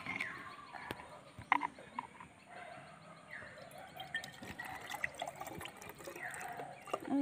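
Water trickles and pours in a steady, gentle stream, with faint clinks and background clutter; no one speaks.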